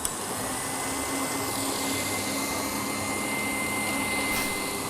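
An electric mixer running at maximum speed whipping egg whites for meringue, a steady loud whirring drone that continues unbroken throughout with no voices.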